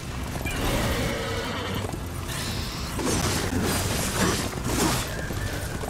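A horse ridden in the Darksiders video game whinnies and clip-clops amid a dense, continuous wash of game sound effects, with occasional crashing and shattering bursts.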